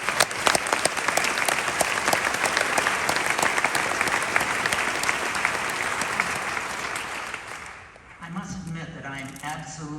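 A crowd applauds graduates at a doctoral degree ceremony, a dense, loud, steady wash of many hands clapping that fades near the end as a voice begins speaking.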